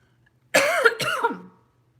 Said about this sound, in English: How terrible to be just coughing in a reading.